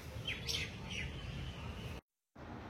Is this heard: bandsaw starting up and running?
no